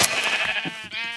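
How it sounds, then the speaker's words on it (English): A single sheep bleat from Minecraft, modded with Tekkit, loud and close, a wavering nasal cry lasting about a second with nothing else around it. "But I'm going to make a lot of sheep."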